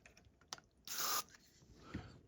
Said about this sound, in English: I'm going to spray some deoxit in here